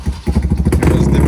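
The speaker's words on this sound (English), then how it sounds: "the scooter isn't quite warmed up enough to want to deal with the hill right now" A scooter that is not yet warmed up struggles to ride away up a hill at a classic car and bike breakfast meet, its engine puttering loudly and unevenly close by.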